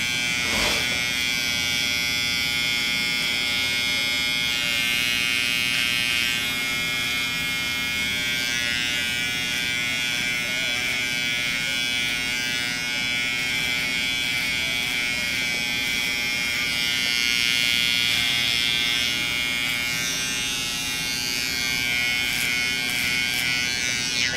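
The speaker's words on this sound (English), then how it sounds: "You see the shapes are really being created by me placing the trimmer down" An electric hair trimmer buzzes continuously and close up while cutting a design of straight lines and circles into hair, its steady hum shifting slightly as the blade moves against the head, with no voices.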